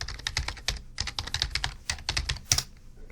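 Computer keyboard typing in a steady run of crisp, close keystrokes with brief pauses, ending in a harder key press near the end, no talking.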